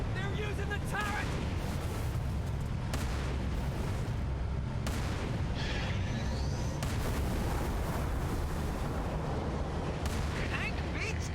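A tank turret in the Halo video game fires in repeated heavy booms within a dense, continuous roar of battle noise, with voices talking over it.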